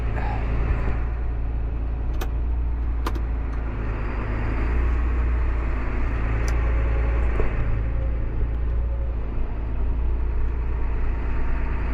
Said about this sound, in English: Concrete truck showed up.